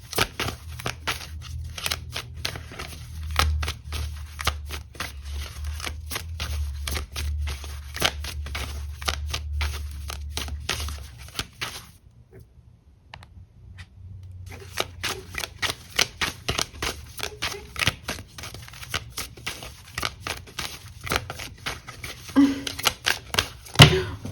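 Tarot cards are shuffled in rapid riffling bursts of crisp, close clicking and flicking, broken by a short quiet pause before the shuffling picks up again.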